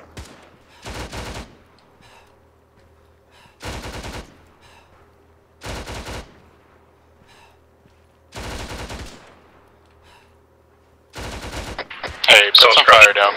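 Bursts of gunfire crack overhead in ARMA 3, five short volleys spaced a couple of seconds apart, ending in a louder, harsher burst.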